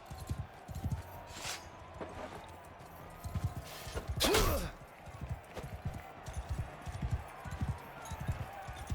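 Rhythmic hoofbeats of a galloping horse in Mount & Blade II: Bannerlord, close and steady, with a louder crashing burst midway and faint talk underneath.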